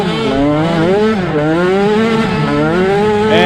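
A race vehicle at a GNCC Micro XC2 off-road race, Bryson Dickerson's machine with an orange bumper, charges out of the woods and slides sideways on wet grass, its engine revving loud and close with a steadily shifting pitch throughout.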